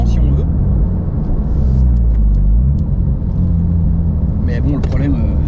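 Porsche 997 GT2 engine pulling hard, a deep throbbing rumble with harmonics climbing as the car accelerates, close and steady, with a voice talking over it.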